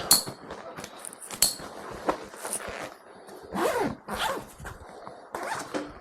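A zipper on a backpack-style get-home bag is pulled open in several quick rasping strokes, close up, with faint clinks and rustling of gear in between.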